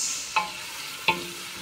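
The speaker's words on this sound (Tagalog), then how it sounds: "Haluin na natin yung kamatis." Tomatoes are stirred in a frying pan over a soft sizzle, with two distinct spoon scrapes against the pan.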